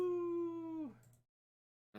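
A voice imitates a wolf howling: one steady sustained tone that bends downward and fades after about a second, followed by silence.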